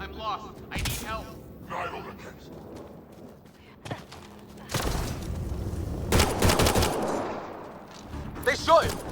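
Gunfire from the Mass Effect Andromeda video game: several sharp bursts of shots break out among game sounds and talking voices, with loud volleys near the middle and a smaller crackle at the end.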